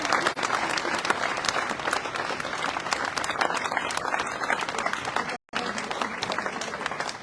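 An indoor audience at an inauguration ceremony gives a dense, steady round of applause that carries on for about seven seconds, with one very brief dip partway through.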